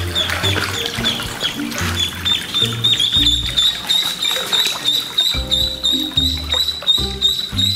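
Ducklings peep loudly and continuously, a dense chorus of high, shrill chirps close by, with soft splashing and tapping underneath and music playing in the background.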